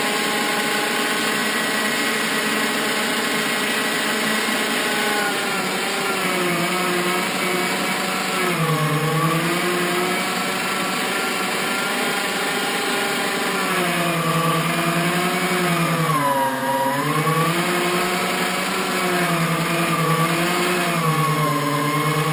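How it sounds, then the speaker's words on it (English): An electric meat grinder runs steadily, grinding bear meat for sausage, with a loud continuous motor whine whose pitch sags and recovers as meat feeds through, close and alone for over twenty seconds. "It's just the grinder does it faster and less labor intensive, gives you a consistent product."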